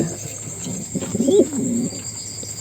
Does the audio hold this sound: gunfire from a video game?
no